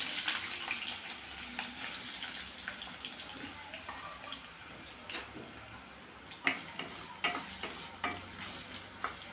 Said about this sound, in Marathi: बटाटे मी तेलात फ्राय करून घेते